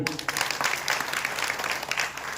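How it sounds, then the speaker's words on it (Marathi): A kirtan audience in Mandve Khurd claps steadily throughout, a dense wash of many hands at fairly loud, even volume with no voices standing out. "वाजवा एकदा टाळी"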